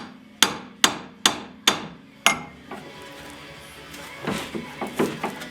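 Hammer blows knocking a part off the suspension of an Audi Allroad B8.5, five sharp metallic strikes in steady rhythm, close and loud, followed by quieter clanks and shop rattles.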